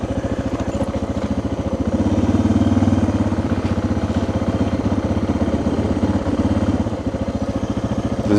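A motorcycle ridden across the Mexican border at Los Algodones gives a steady, close engine drone with a fast rhythmic pulse that swells briefly before settling back to an even cruise.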